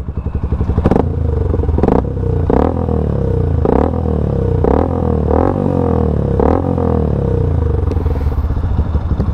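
Motorcycle fitted with an aftermarket carbon muffler, revved in short repeated blips. Each throttle burst rises and falls at a steady rhythm over a loud, close idle, with no talking.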